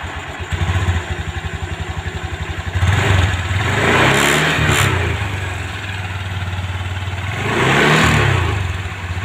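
A Honda automatic scooter, on its stand after a final-drive gearbox repair, starts from a low idle and then revs in two distinct surges, a medium engine note rising and falling close by.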